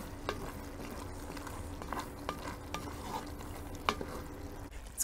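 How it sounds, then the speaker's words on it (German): A minced meat one-pot stew being stirred in a Dutch oven, soft spoon scrapes and light clinks against cast iron over a low, quiet simmering hiss. "Nochmal ordentlich umrühren"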